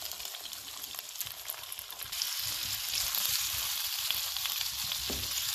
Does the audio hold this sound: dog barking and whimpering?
no